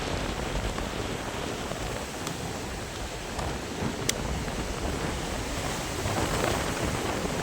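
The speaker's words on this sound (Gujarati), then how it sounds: "મોજા જો." Sea waves washing against the shore where the Gomti river meets the sea at Dwarka, heard as a steady roaring wash of surf with wind, constant and fairly loud, no voices.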